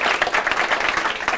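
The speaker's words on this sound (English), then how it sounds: "Just a round of applause for the online audience" An audience at a digital school showcase event applauds, a dense, loud wash of clapping that fills the short clip without a break.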